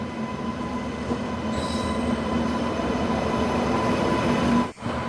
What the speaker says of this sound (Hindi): मुजफ्फरपुर से कोलकाता जाने वाली तिरहुत एक्सप्रेस बरौनी इंटर कर रही है।